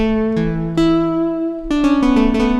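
A bright, harmonically rich synth tone plays a few sustained notes, then a quick run of rhythmic pulsing stabs, close and upfront with no voices.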